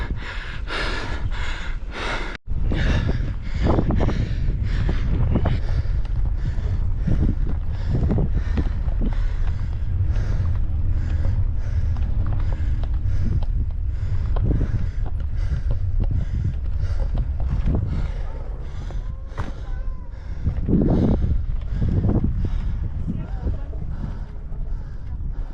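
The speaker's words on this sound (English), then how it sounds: "With a nice last minute headwind." A headwind buffets a cyclist on a bicycle tour near the Czech–Polish border, a continuous rough roar against the microphone with heavy breathing and puffs throughout.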